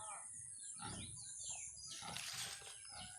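Pig grunts and snorts at close range, with some rustling and faint chirps in the background.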